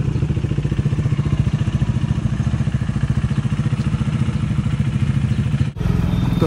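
A KTM Duke 390 motorcycle engine idles loudly and close, a steady rapid mechanical chugging that holds throughout with a brief dip near the end.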